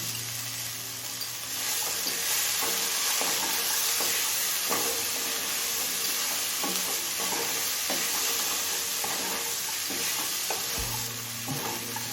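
Fresh green peas and mixed vegetables frying with whole garam masala spices for an oats pulao: a continuous close sizzle overlaid with regular scraping stir strokes across the pan, ending with a low hum.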